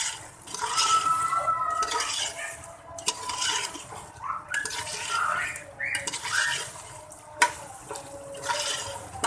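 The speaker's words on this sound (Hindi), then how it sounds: "हल्का सा और पानी का छींटा लगाएंगे।" Chicken haleem being roasted with spices in a pan, stirring and scraping with bursts of sizzling as splashes of water hit the hot masala, repeating in several uneven waves at close range without talk.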